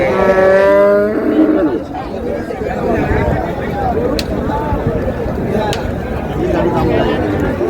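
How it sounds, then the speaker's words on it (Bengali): Loud, close mooing from a cow and calf at a cattle market, a long low call at the start followed by more moos over a noisy background of people chattering. "গাভী বাছুর।"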